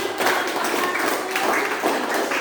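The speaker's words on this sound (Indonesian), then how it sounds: "Ya, kita beri tepuk tangan." Students in a Grade 11 civics classroom applaud after a group presentation, a dense, steady patter of many hands clapping for a couple of seconds with a faint hint of voices mixed in.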